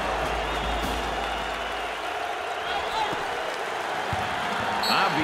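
Home fans at a Houston college basketball game against Penn roaring and applauding after a foul, with dense, sustained cheering filling the arena and a bouncing ball faintly audible.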